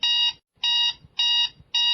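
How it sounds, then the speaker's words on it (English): A ship's rotary vane electro-hydraulic steering gear low oil level alarm beeps in four loud, evenly spaced electronic pulses, piercing and alone. "If the leakage is severe, then low level alarm sounds and auto isolation takes place in the following way."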